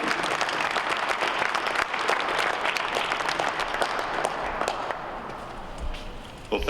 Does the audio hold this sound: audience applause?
yes